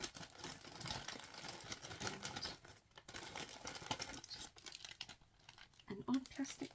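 Plastic bag from a cross-stitch kit packet being handled, giving irregular crinkling and rustling bursts close to the mic, faint overall, with pauses and someone speaking briefly.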